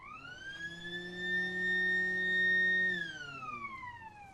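A quick siren blast before a V3 cannon test firing: one steady, loud wailing tone that holds for about three seconds and then drops away as it winds down.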